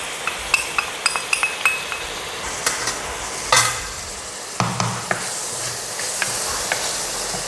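Tomatoes fry in a pan with salt, chili powder and turmeric for a vegetable kurma, giving a steady close sizzle broken by several sharp clinks and scrapes of a spoon stirring against the pan.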